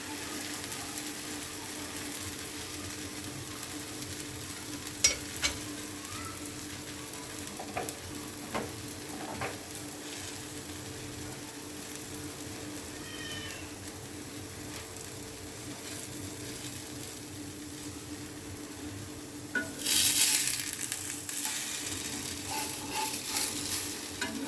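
A thalipith flatbread fries in ghee or oil on a pan with a low, steady sizzle, a few faint clicks, and a louder burst of hissing near the end.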